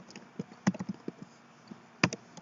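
Quiet computer keyboard typing in short irregular bursts of tapping, with a pause before a final cluster of keystrokes, close and alone.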